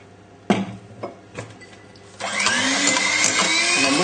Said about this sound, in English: we'll just give it a little whisk again